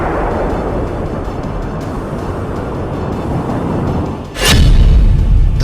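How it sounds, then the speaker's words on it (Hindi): A sudden loud missile-strike boom in Iran bursts out of a rumbling background, followed by a heavy sustained roar. "धमाका नंबर 1,"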